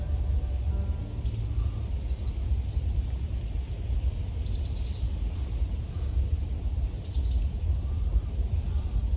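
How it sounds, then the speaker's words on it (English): Many birds chirp and twitter high overhead, a dense chorus of small calls over a low steady rumble of background noise. "This tree on by is absolutely full of birds, and they just sound beautiful."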